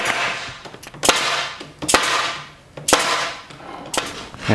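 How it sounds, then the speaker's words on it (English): An air nailer fires staples into a wooden frame, four sharp loud snapping shots about a second apart, each followed by a short hiss of air, close and distinct. "one nail a piece, or one staple from the air gun"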